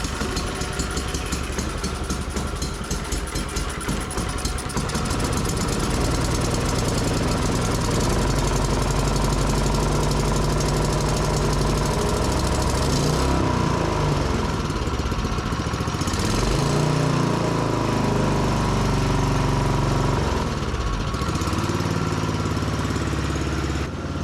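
Yamaha YS624T snow blower engine, choked with throttle at medium, cranked on its electric starter and catching into a loud, steady running chug that continues at close range with uneven surges.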